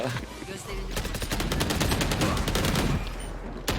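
Rapid automatic gunfire from a Valorant match rattles in a dense, fast burst of sharp cracks lasting a few seconds, loud and close, followed by a single isolated shot near the end.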